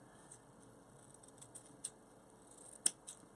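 Scissors cutting folded mesh ribbon at an angle for a Christmas wreath, a few faint crisp snips close by against a quiet background.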